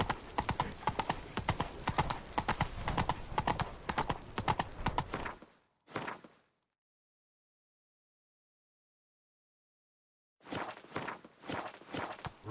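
Roach, the horse in The Witcher 3: Blood and Wine, gallops with rapid, close hoofbeats, cuts to near silence and then resumes the quick clip-clop.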